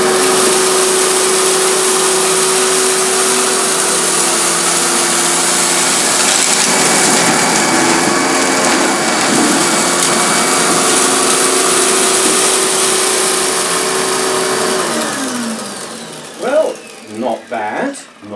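A vintage Electrolux Contour vacuum cleaner runs loud and steady for about fifteen seconds, then winds down and cuts off, leaving a few brief knocks at the end.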